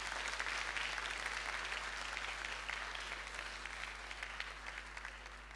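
A conference audience applauds a speaker after a question and answer session, a dense, steady wash of many hands clapping that fades slightly toward the end, with no voices over it.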